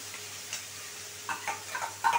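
Masala spices frying in hot oil in a pan, a soft steady sizzle with a few brief clicks of stirring near the end.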